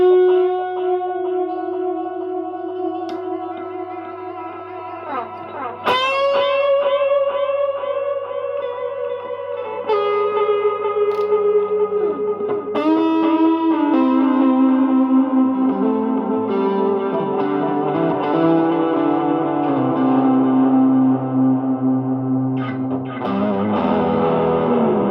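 Distorted electric guitar feeding an Electro-Harmonix Canyon delay pedal, picked notes and chords ringing out with gritty sustain and cascading echo repeats that build into a thick wash, played alone without speech.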